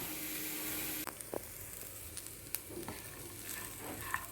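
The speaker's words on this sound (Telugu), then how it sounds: "పచ్చిమిరపకాయలు వేగిపోతున్నాయి" Quiet sizzle of chillies frying in a pan, with a few sharp pops and spatula taps scattered over the soft hiss.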